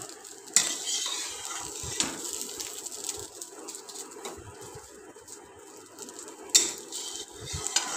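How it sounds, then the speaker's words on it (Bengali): A metal spatula scrapes and taps against a wok while chopping a crumbly, bhujia-like pasta mixture over the heat, with a soft steady sizzle underneath and a few sharper clinks. "খুন্তির সাহায্যে কেটে কেটে ছোট ছোট টুকরো করে নিচ্ছি।"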